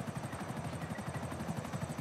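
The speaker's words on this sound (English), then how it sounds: "Is that the police chopper?" A police helicopter in the video game GTA V thrums steadily with a rapid, rhythmic rotor chop at moderate distance, continuous and fairly faint, with no talking over it.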